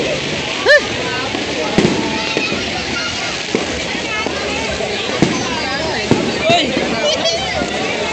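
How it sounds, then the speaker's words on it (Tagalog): Scattered bangs and crackling pops of fireworks at a distance, with a steady wash of crowd noise and chatter underneath throughout. "May fireworks ito ngayon"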